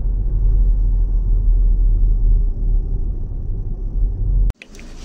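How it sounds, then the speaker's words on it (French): Steady low engine rumble inside a running car, heard from the cabin, ending with a sudden knock or thud near the end; no talk. "Je viens de monter dans la voiture."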